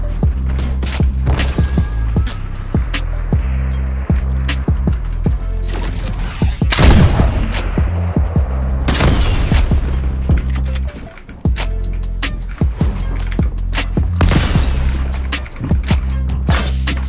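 Gunfire in the video game Fortnite crackles in loud repeated bursts and rapid volleys, close and dense, with booming impacts mixed in over a steady game background.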